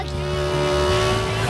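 Cartoon beetle buggy racing fast: a loud, steady motor drone with rising engine pitch and sustained revving, close and continuous, with faint background tones and no talk.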